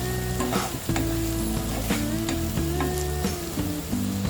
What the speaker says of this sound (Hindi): अभी हम स्पैटुला का यूज़ करके इसे मिक्स करेंगे।